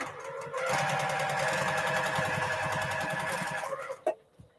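A domestic sewing machine stitches four-patch quilt blocks in one steady, rapid, close-up run of a few seconds, then stops with a small clunk and a soft click.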